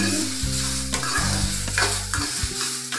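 Tomatoes and spices sizzle in a hot pan for a dhaba-style egg curry while a utensil scrapes and stirs through them in a few close strokes, with no talking.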